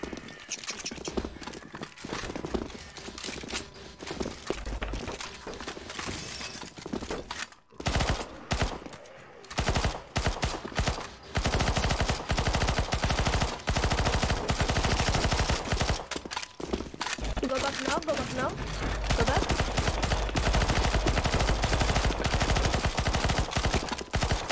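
Dense, nearly continuous gunfire in Counter-Strike: Global Offensive during a zombie escape round, with rapid automatic bursts layered over rumbling game sounds, plus galloping clip-clop effects and brief pauses early on.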